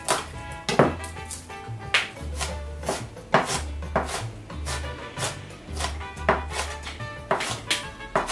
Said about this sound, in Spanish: cortar un par de ajos